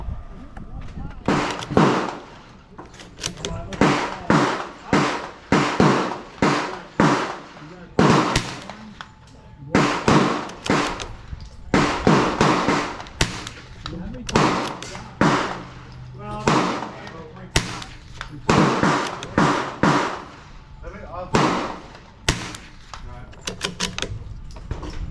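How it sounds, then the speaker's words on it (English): Shots from a Ruger Precision Rimfire .22 LR rifle crack out in a long series at a 50-yard range, sharp close reports in quick irregular strings with a few pauses, while people talk between them. "I'm going to shoot all the targets with the same ammo across"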